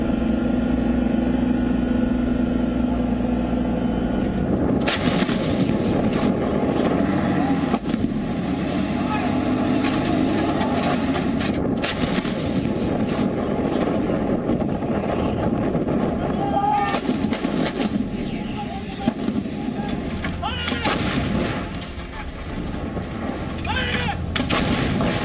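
An indigenous howitzer artillery gun fires at the Red Fort on Independence Day, sending out powerful booms and rolling thunder that hold up across the whole stretch. Voices can be heard talking beneath the gunfire.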